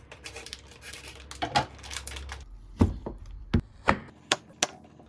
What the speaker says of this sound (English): Let's cut the Sangom sana.